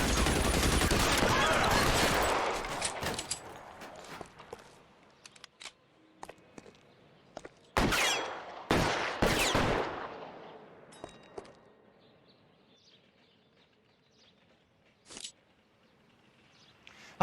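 Gunfire in the video game L.A. Noire: a dense burst of rapid shots up front, then scattered single and clustered shots with pauses, closing with one more sharp shot.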